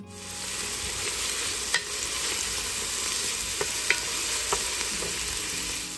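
Onions cooking down in avocado oil inside a Dutch oven, a continuous bright sizzle with a few small pops and crackles, close and steady, with no talking.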